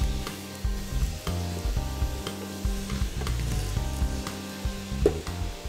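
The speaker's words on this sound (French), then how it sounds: "Là, on mélange un petit peu." Tomatoes and onions being stirred in a pot for homemade ketchup, a steady soft sizzle with scraping and stirring strokes close by, fairly quiet and with no voices.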